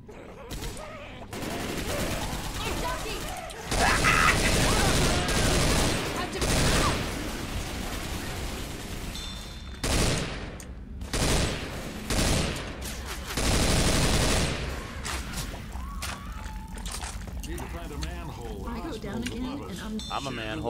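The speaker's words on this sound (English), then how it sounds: "Watch where you're shooting!" Loud bursts of video game gunfire from Left 4 Dead 2, with rapid volleys and single shots recurring over about twenty seconds amid busy action, and people talking between the shots.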